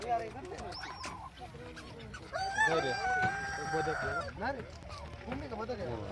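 Indigenous village roosters and hens at a farm show give a clear rooster crow mid-clip, with clucking before and after and people talking nearby.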